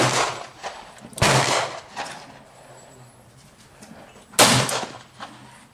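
.38 Special short handloads with a 213-grain bullet over 2.8 grains of Power Pistol are fired outdoors. Two loud, sharp shots ring out about three seconds apart, each followed by a brief decay.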